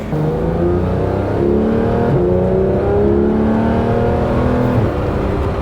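A Porsche GT3 RS engine drones loudly and steadily, its pitch climbing and dropping through gear changes as it runs hard on a track.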